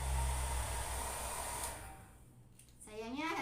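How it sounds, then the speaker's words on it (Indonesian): A single-speed hair dryer blows a steady, loud rush of air at a filter cartridge, easing briefly quieter midway before surging back to full strength. "Pastikan ini hair dryernya berfungsi dengan baik."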